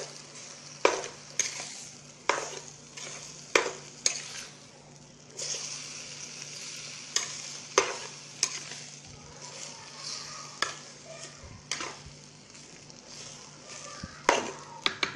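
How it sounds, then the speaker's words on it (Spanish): Salted beef steaks fry in a pan with tomato and onion. A utensil scrapes and knocks against the pan at a regular, repeated pace over a low, continuous sizzle. "Y ya se empieza a revolver."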